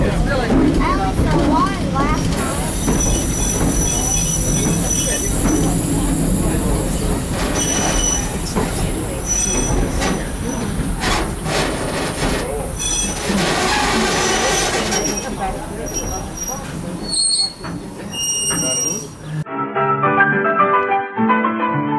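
A Weiser Railroad train pulled by the Edison locomotive at Greenfield Village brakes toward a stop, with steady rumbling and high metallic wheel squeals over a continuous public-address announcement.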